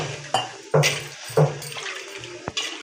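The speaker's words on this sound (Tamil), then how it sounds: "கொஞ்சம் தண்ணி ஆட் பண்ணி அலசி ஊற்றிக்கலாம்" Water splashing and sloshing in a metal pot of idli sambar, with several sharp pours and swishes followed by a short clank.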